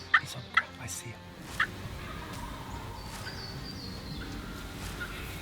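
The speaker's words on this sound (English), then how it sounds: "That's a full gobble, so that's a Tom, not a Jake." A wild turkey tom gives three sharp, loud gobbles in quick succession at the start, with a fourth shortly after, heard outdoors in Missouri woods against steady background hiss and faint bird calls.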